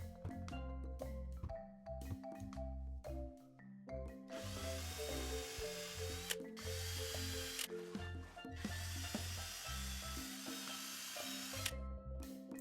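A power drill whines in two long bursts into wood, loud and close, with clicks and handling noises before and between.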